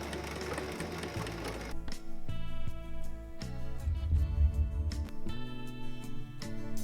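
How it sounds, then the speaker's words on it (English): Sewing machine stitching an elastic waistband onto a skirt seam: close, steady mechanical whirring that starts and stops in several bursts, with a short pause between runs and no talking. "I'm going to stitch it on top of the seam so the elastic doesn't twist."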